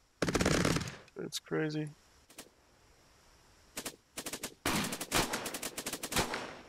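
Machine gun fire in the video game Cepheus Protocol: sharp rapid bursts, one opening volley, then a longer sustained stream near the end, with a brief voice in between.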